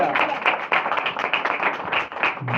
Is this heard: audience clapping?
yes